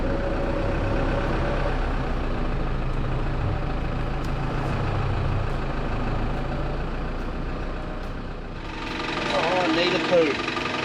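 A 4x4 truck engine runs at a steady low rumble while a winch drags it out of soft ground by the Murray River, a constant near drone with a slight swell toward the end.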